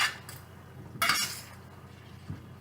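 A utensil stirs ground meat and mac and cheese in a pan on a stovetop, giving a few short metallic scrapes and clinks against the pan with quiet gaps between them.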